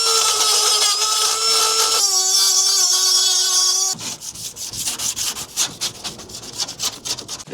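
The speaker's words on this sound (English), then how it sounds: "I'm now just going to take this rotary tool with a little grinding stone. I'm just going to tidy up the edges" A small rotary tool with a grinding stone smoothing cut steel edges in a van roof, a high-pitched whining drone that drops in pitch midway, then gives way to rough, rhythmic scraping strokes.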